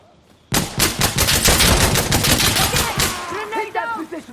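Heavy gunfire erupts in the game Insurgency Sandstorm: a sudden, loud, sustained burst of rapid automatic shots with overlapping reports, tailing off into scattered echoing rounds.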